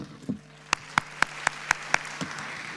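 Sparse, evenly spaced hand claps ring out in a church congregation in Pully, Switzerland, about six sharp claps at a steady beat against a quiet background.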